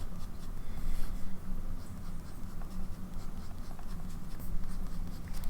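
Close up, a nearly empty fountain pen writes lightly on paper, its faint scratching strokes running irregularly across a low background hum, with no talking.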